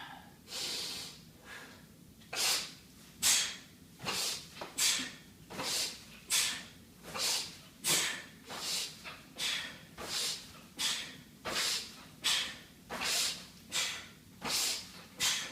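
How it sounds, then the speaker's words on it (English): Forceful rhythmic breathing during kettlebell swings: about twenty-odd sharp, hissing exhalations snorted out at a steady pace, each followed by a quieter inhale, close to the microphone with no talking. "the breathing is breathing in on the way down, forcefully out on the way up"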